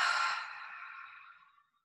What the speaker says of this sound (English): Part the lips and let the breath go.